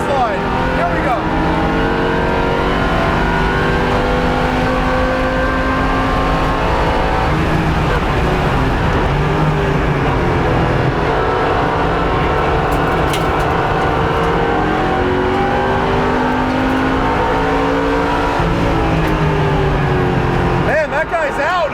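A 2015 Chevrolet Camaro Z/28 race car drives hard on a race track, its engine roaring loud and steady throughout with rising and falling pitch through gear changes, while a driver talks over it.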